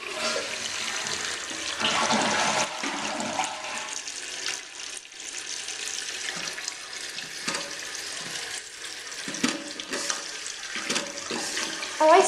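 A 2012 American Standard H2Option toilet tank runs a full flush, a loud continuous rush and gurgle of water draining and refilling for over ten seconds, close by with no talking.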